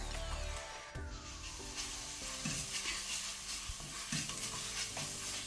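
Ginger garlic paste frying in a pan for a mixed vegetable prawn curry, a steady loud sizzle with repeated spatula scrapes and stirring knocks, no talking.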